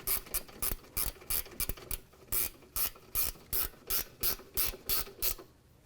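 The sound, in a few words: ratchet tightening brake caliper bolts on Lexus RX350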